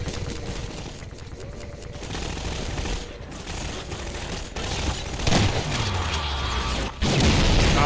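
Gunfire in the shooter game Half-Life 2, a rapid chaotic exchange of shots and bursts with booming impacts, building louder toward the end amid general combat noise.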